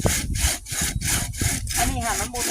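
A hand saw cuts through wood at close range, with about eight quick, even back-and-forth strokes rasping in a steady rhythm and no voices.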